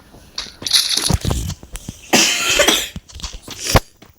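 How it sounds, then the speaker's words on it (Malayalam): A person coughs repeatedly at close range, with sharp, irregular bursts separated by short pauses and some throat clearing between them. "നല്ല ചുമയുണ്ട്"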